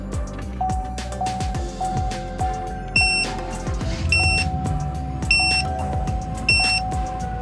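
A tire pressure monitor gives short electronic beeps in several quick bursts, repeating every second or so, over a steady running engine and mechanical whine inside a vehicle.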